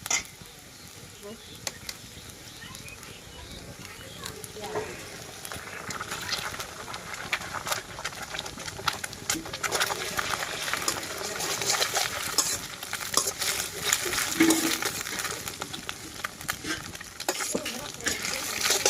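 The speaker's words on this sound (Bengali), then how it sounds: "পেঁয়াজ রসুনটাকে কিছুক্ষণ ভেজে নেব।" Onion and garlic frying in a pan, a continuous close sizzle and crackle with occasional stirring scrapes, growing slightly louder over time.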